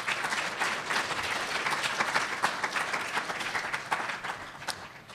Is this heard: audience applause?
yes